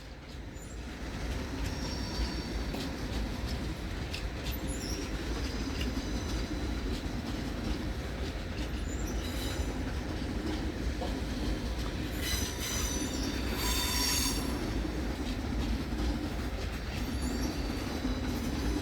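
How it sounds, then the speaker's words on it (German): ICE 4 high-speed train rolling into Munich main station, a steady loud rumble of wheels and carriages with bursts of high wheel squeal, continuous and close. "Einfahrt eines ICE 4 als Bereitstellung."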